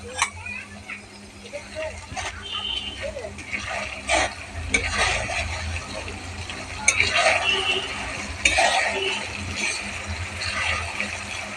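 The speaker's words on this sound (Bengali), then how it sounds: "আলুগুলোকে আমি ভাজতে দিচ্ছি" Potatoes fry in a pan with a soft sizzle, interrupted by stirring scrapes and utensil clinks, a voice talking over the cooking.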